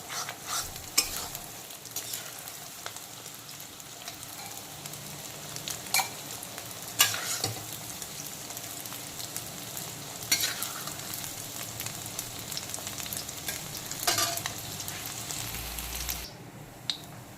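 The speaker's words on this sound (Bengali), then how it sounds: "এইভাবে খুন্তির সাহায্যে ডিমগুলোকে নাড়তে হবে যাতে ডিমগুলো খুব সুন্দরভাবে ঝুরো ঝুরো হয়ে যায়।" Eggs scrambled in a hot oiled pan with a metal spatula, repeated scraping and tapping strokes over a continuous close sizzle, with no voices.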